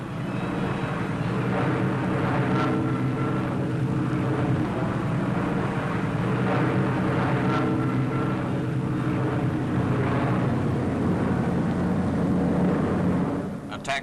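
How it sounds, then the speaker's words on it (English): Propeller-driven Boston bombers and other aircraft drone overhead as they fly in over invasion beaches, a sustained loud engine roar with a narrator speaking over it. "Bostons, among other types, flew in over the beaches to bomb the Germans and their communications further inland."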